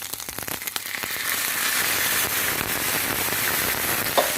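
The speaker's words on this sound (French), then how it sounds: "Et je vais verser ma chair de tomate." Tomato pulp poured into a hot Compact Cook Pro multicooker while making beef meatballs in tomato sauce, starting with scattered sharp crackles that build after a second into a loud, steady, dense sizzle with no talking.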